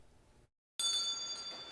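Salvation Army hand bell for the Red Kettle campaign in New York City: faint background, a short silent gap, then a bright metallic ringing tone with sustained overtones that continues to the end.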